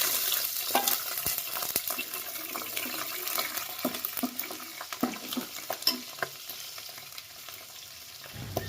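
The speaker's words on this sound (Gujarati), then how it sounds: "હવે મરચાં નાખી દઈએ." Green chillies sizzle and crackle in hot oil with popped mustard seeds for a tempering, bright spattering bursts and occasional stirring clinks, close and fairly loud, gradually easing.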